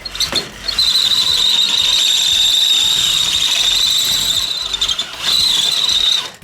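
A loud, sustained high-pitched squeal from a drill biting into metal on a KT196 go-kart build, running for several seconds, briefly breaking off, then starting again.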